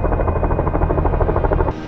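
A US military helicopter's rotor produces a loud, close, rapid rhythmic thumping layered over a deep engine drone, steady throughout and dipping slightly near the end.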